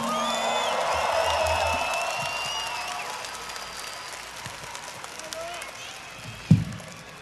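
Concert crowd at the Vive Latino festival in Mexico applauding and cheering for the guitarist during a show, a broad steady roar that fades gradually, with a sharp thump near the end and a band tone over it.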